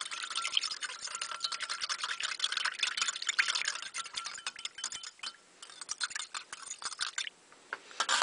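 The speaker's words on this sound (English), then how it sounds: "Then I'm just stirring it around really good." Boiling water with antibacterial dish soap and gizzard stones being stirred vigorously, giving a steady run of close, bright clinks, ticks and sloshing splashes that continue throughout with a brief lull near the end.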